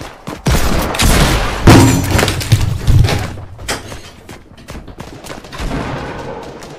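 Desert Eagle gunfire in Fortnite: a burst of loud, sharp in-game shots and impacts, several heavy bangs spaced irregularly over a few seconds, with smaller cracks trailing off.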